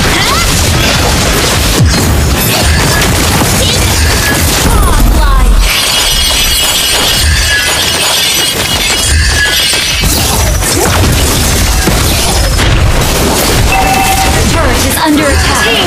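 Dense, loud barrage of explosions, shattering crashes and booms from a turret attack in a team multiplayer video game, continuous and layered throughout, with in-game voice alerts mixed in.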